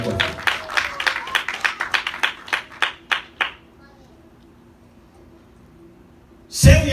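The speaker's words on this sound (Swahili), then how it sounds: "Hebu tumpige Mungu makofi." A church congregation claps for God during a sermon, a burst of rhythmic, fairly close hand claps that slows and fades out, followed by a quiet pause and then a brief loud rise of noise at the end.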